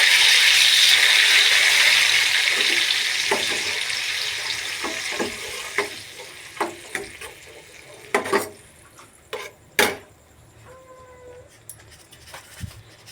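Tomato paste goes into a sauce with garlic in a pan, and a loud hiss fades as scattered knocks and clatters of a spoon against cookware follow.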